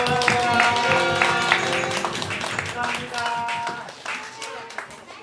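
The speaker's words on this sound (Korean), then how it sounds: "예봉이 한 번 더 생일 축하합니다. 박수" Congregation applauding a child's birthday during a Korean church service, dense rhythmic clapping from many hands filling the room steadily throughout, with faint voices mixed in.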